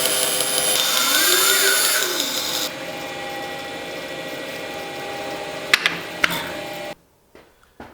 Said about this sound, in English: I have a bandsaw, so I'm gonna use that instead.